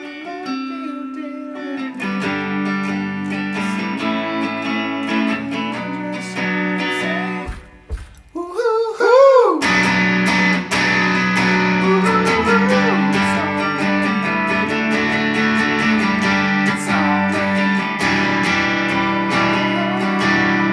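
Acoustic-style guitar strums the chord progression of a song in a steady, full rhythm, with a brief drop around the middle before the strumming returns loud and continuous, no talking.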